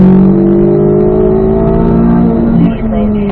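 A Chevrolet Corvette C8 Z06 accelerates on the Spring Mountain race track. Its engine gives a loud, steady, close drone throughout, with a brief dip near the end, while a person talks over it.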